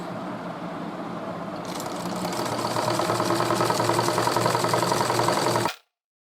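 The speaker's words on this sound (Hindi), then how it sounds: "यहाँ से हमने सिलाई लगाना शुरू किया है, वापस हमें घूम के यहीं पे आना है।" A sewing machine runs steadily while stitching a square piece of cloth, a fast, even mechanical whir that gets a little louder partway through and then stops abruptly.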